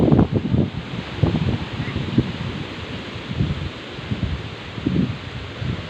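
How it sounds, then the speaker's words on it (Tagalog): Strong wind rushes outdoors at a rural farm field in the Philippine provinces, a steady loud roar with gusting microphone buffeting and rustling, faint voices mixed in. "Sobrang lakas ng hangin no."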